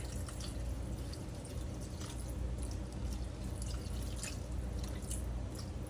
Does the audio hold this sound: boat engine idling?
no